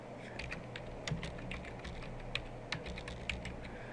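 Steady clicking of keys on a computer keyboard, irregular taps at a quick typing pace, fairly close, with no voices.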